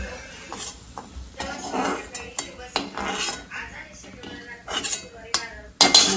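Roasted onion scooped out of a pan onto a plate with a metal utensil, giving a run of close scraping clinks and clatters, with a faint voice now and then.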